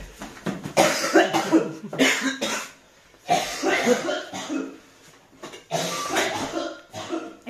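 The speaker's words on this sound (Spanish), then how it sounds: "cuando lo escuchas toser dirías que es un fumador empedernido" Harsh, chesty coughing from a lingering, uncured cough, in three fits of several bursts each, separated by short pauses, close and fairly loud.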